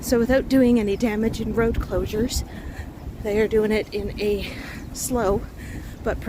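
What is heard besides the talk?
No distinct noise like a dog, phone or traffic.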